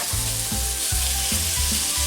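Diced tofu and soy sauce hit a hot pan and sizzle loudly and steadily, with repeated low thuds and scrapes of stirring underneath the continuous hiss.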